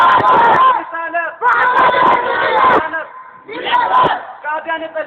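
A large crowd at a religious-political rally shouts the answer to a Naara-e-Takbeer slogan in loud, forceful chanted bursts, three strong surges separated by short pauses and softer voices.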